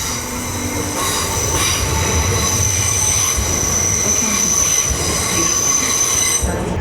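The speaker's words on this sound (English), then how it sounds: "Oh, we got another train coming in." A Polish sleeper train rolls in close by, its wheels letting out a long, loud, high-pitched metallic squeal over the heavy rumble of the cars.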